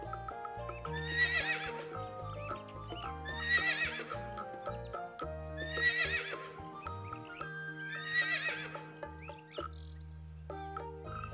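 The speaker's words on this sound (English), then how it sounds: "H for horse" A horse whinnies four times in a regular pattern over a bouncy, playful musical backing with steady clip-clop hooves.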